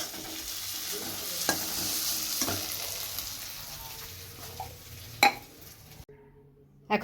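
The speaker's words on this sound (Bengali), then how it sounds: "চারটে মাছই তেলে ছেড়ে দিয়েছি" Four fish frying in hot oil in a home kitchen, a steady loud sizzle with occasional stirring clinks and scrapes, cut off abruptly near the end.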